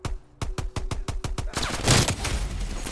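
ZRG 20mm sniper rifle fire in Call of Duty Cold War: a rapid, evenly spaced run of sharp mechanical cracks, then a loud, sustained roaring blast and rumble that dominates the remainder, with no talking.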